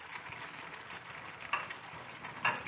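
Ground cumin and coriander spices frying in a karahi pan for chicken karahi, a steady close sizzle with a couple of brief stirring scrapes, no voices.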